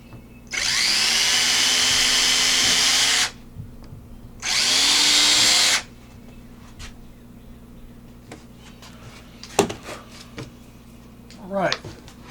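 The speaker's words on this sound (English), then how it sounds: "Let's drill some holes and put some screws in there." A power drill bores holes into a wooden hidden-compartment tool cabinet in two close, loud whirring bursts, the first longer than the second, followed by quiet clicks and handling noises.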